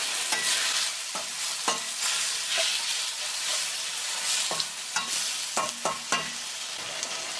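Tomatoes cooking in a pan for a tomato fish curry, a loud bright sizzle with rhythmic stirring scrapes and several sharp spoon knocks toward the end.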